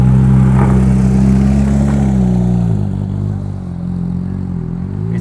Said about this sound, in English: The exhaust is sick though